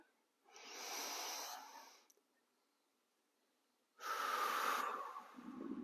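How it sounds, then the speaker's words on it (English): Two slow, deep breaths drawn in close to the microphone during a guided relaxation, each a long airy inhale separated by a quiet pause, with no talking. "Breathing deeply in"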